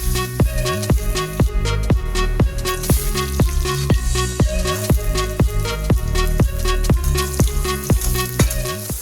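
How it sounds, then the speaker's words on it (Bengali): Whole cumin seeds, dried red chillies and bay leaves tempering in hot oil, a loud steady sizzle broken by regular rhythmic clicks and scrapes of stirring throughout. "তার ফোড়নটা দিয়ে নিচ্ছে, গোটা জিরে, শুকনো লঙ্কা, তেজপাতা"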